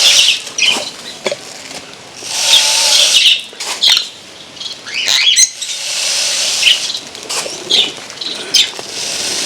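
Pigeons, lovebirds and cockatiels flapping their wings while gathering at feeding time, loud close bursts of fluttering wingbeats in repeated flurries with occasional squawks and chirps.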